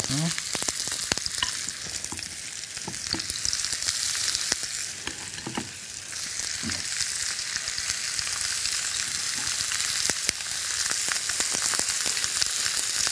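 Vegetables, likely cabbage, sizzling in a hot pan over high heat, giving a steady close crackle and spatter with scattered sharper pops and stirring scrapes throughout, and no talk.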